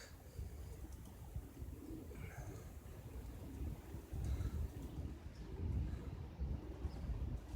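Over 300 pigeons at a loft in Długie Rejów make a low, steady cooing murmur, with occasional brighter calls and a soft background rumble; no one speaks.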